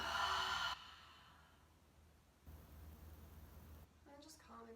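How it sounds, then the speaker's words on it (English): A deep, audible exhale during a slow shoulder-opening yoga flow, heard close and alone, followed by a quieter breath and a brief voice near the end. "Big open mouth exhale."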